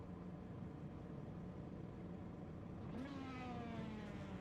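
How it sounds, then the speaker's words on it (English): Race cars at Road America wind up for a standing start, a steady engine drone that swells into a rising rev partway through, heard from a distance. "You'll hear the cars wind up here in just a minute."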